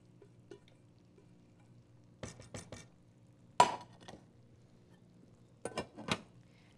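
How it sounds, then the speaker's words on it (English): Quinoa is mixed into a dish with a utensil, producing a few short bursts of scraping and clinking against the bowl, quiet and spaced apart. "now all you do is you take your quinoa and you mix it all in, just like that"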